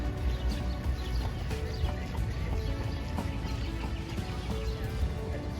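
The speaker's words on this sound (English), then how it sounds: "Another white carriage, but with a brown horse." Hooves of a horse pulling a carriage clip-clopping along a busy New York street amid steady traffic and city rumble.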